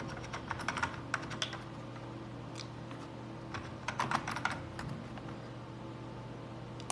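Quick, uneven bursts of typing on a computer keyboard tap along quietly in a still room, pausing briefly between runs of keystrokes.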